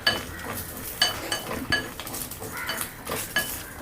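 Horse gram chutney mixture stirred in a pan after the flame is off, with a spoon tapping and scraping against the metal in irregular clinks, close and fairly quiet.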